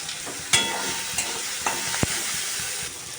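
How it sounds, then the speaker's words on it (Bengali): Prawns fry in a pan with an even crackling sizzle, broken by a few sharp knocks and scrapes as they are stirred. No one speaks. "এবার দিচ্ছি চিংড়ি মাছ এবার ভালো করে ভেজে নেব"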